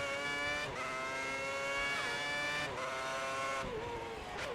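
Formula One race cars in the F1 2010 racing video game, a high, sustained engine whine with rising and falling gear-change sweeps and brief shifts, continuous and loud with no voices.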